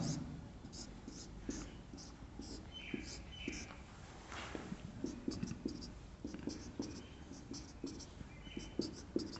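A chemistry teacher writes an organic compound example on a board, chalk or marker tapping and scratching in short irregular strokes, close and fairly quiet, with soft breathy speech in between.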